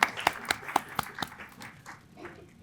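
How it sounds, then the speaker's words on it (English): At a community network meeting, a short round of applause begins with about six crisp, evenly spaced claps close by, then thins out into softer, scattered clapping. "Applause."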